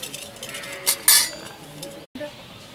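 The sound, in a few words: almonds being scooped from pan into a bowl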